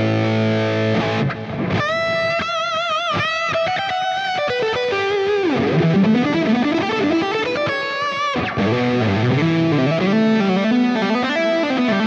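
An electric guitar with a Sustainiac pickup plays a lead through a distorted lead channel, loud, with long sustained notes, quick runs and smooth sliding bends, no voices.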